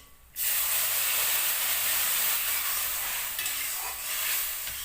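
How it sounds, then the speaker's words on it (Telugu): Milk poured into a pot of sago with cardamom on the stove sets off a sudden loud hiss and sizzle that holds steady and close throughout. "వేసిన తర్వాత ఇప్పుడు ఇందులోని పాలు వేస్తాం"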